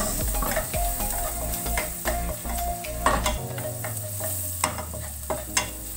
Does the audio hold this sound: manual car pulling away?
no